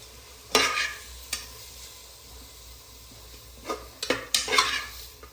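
Ginger, garlic and green chilies being stirred in a hot pan for a chicken stew, with several scraping, clattering strokes of the spoon over a soft, steady sizzle, loudest in a burst of stirring near the end.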